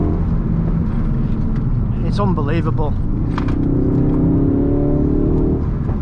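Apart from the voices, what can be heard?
Ford Focus RS car driving and accelerating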